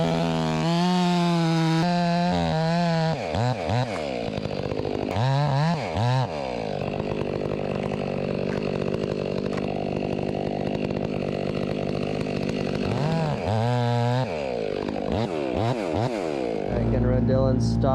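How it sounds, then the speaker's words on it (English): A Stihl 661 chainsaw with full-comp chain cuts into a large fir tree, the engine roaring loud and close throughout, dipping and revving as the bar bites, with brief throttle changes and a voice speaking over it. "I'm gonna cut that with Dylan's saw."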